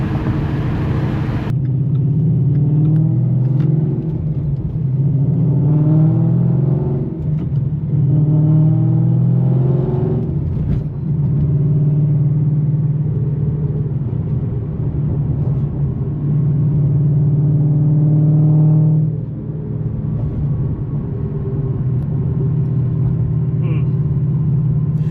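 A Ford Mustang rear end gives a droning whine while the car runs up through the gears under a low engine rumble, with someone talking over it.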